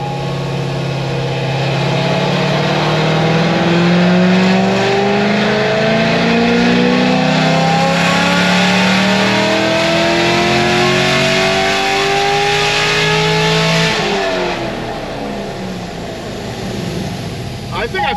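An LS3 V8 in a Corvette Grand Sport roars loudly at full throttle on a chassis dyno, its pitch climbing steadily through a long pull before easing off near the end, with people talking faintly underneath.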